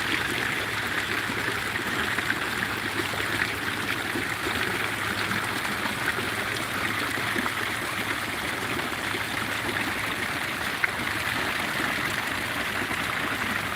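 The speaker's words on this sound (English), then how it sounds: "I'll let the water do its calming for a second." A fountain of reclaimed water splashes steadily in an Adelaide city street, a continuous broadband rush of falling water at close range with no talk over it.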